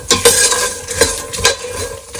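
Spices with Himalayan pink salt and chaat masala stirred in a pan for a makhana snack, a spoon scraping and knocking against the metal in several distinct strokes, close and loud, with no voices.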